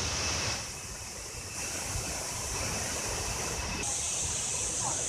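A waterfall at a recreation club sends up a loud, steady, close rushing roar of falling water that stays constant throughout, with no voices.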